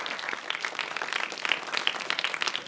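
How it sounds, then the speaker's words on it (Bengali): Studio audience clapping loudly for a group of schoolchildren on a children's TV magic show, a dense, steady patter of many hands with no voices over it. "বন্ধুদের জন্য জোরে হাততালি।"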